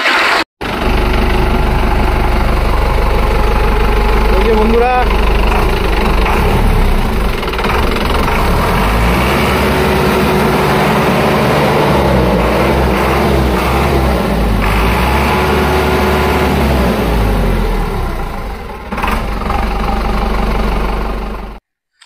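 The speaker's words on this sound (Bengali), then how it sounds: "স্টার্ট করে দেখাও, সাউন্ডটা কেমন শোনাই" A second-hand tractor at a showroom in Dhupguri, West Bengal, started up and left idling: a loud, steady low rumble with vibration runs for about twenty seconds, close by, and someone speaks briefly at the start.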